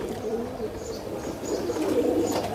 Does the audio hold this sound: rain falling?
no